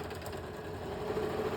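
A sewing machine runs steadily while stitching the side seams of a fabric tote bag, a short, continuous close-up whir with a faint buzzing hum.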